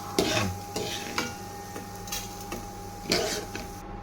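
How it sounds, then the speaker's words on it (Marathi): Masala frying in a couple of spoons of oil for a Maharashtrian bhogi vegetable dish, with a steady low sizzle broken by several sharp scraping stirs of a spoon against the pan. "आता झाला मसाला चांगला तळून घ्यायचा मसाला. थोडं तेल घालून"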